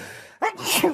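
One person's sneeze in a radio studio: a quick sharp intake of breath, then a short, loud, explosive burst close to the microphone.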